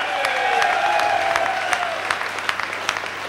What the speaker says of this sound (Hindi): ये तालियां कम है, तालियां कम है, ये जोरदार तालियां